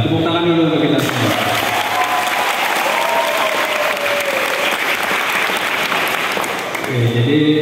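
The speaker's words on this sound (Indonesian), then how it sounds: "Tepuk tangan dulu untuk kita semua." An audience of men and women claps loudly and steadily for several seconds, a thick continuous wash of applause with some voices inside it, framed by brief speech at the start and end.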